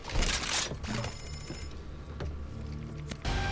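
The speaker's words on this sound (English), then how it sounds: "The phone ringing." A telephone rings in the zombie shooter game Back 4 Blood, a repeated bell-like trill over a busy, noisy game mix with bursts of louder sound throughout.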